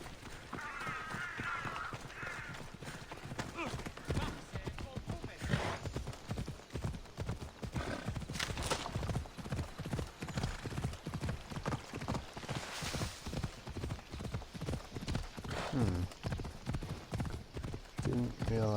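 Rapid, steady hoofbeats of a galloping horse in Assassin's Creed Odyssey run throughout, loud and close, with a voice talking over them.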